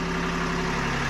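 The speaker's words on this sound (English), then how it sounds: "we'll just run the engine for the first time to check what the DC-DC charge is going in" A boat engine idles steadily and close by during a lithium battery charging test, a continuous low hum with no talking over it.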